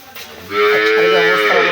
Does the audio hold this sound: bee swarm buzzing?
no